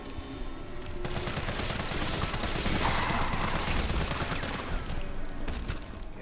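Rapid, sustained gunfire against an enemy in the Resident Evil 3 video game, shots cracking in a dense, continuous burst at steady loudness for several seconds with no talk over it.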